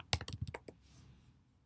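A burst of rapid, close keystrokes on a computer keyboard, about half a second of quick clicks, followed by a faint hiss and then quiet.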